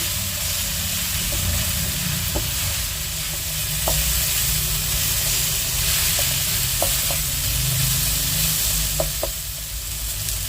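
Galangal and bay leaves frying in a pan with fragrant spice paste for a jackfruit coconut-milk stew, a loud continuous close sizzle broken by a few faint clicks of stirring.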